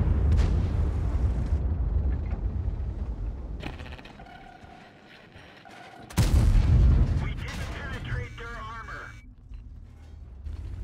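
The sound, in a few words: tank cannon shot and explosion in a tank video game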